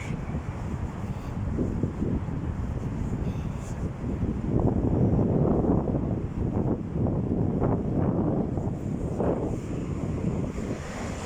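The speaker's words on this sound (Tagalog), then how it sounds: "Lakas ng hangin." Strong wind buffets a microphone outdoors on a street walk in Salmiya, Kuwait, a heavy, continuous low rumble that swells in gusts over several seconds, with no talking.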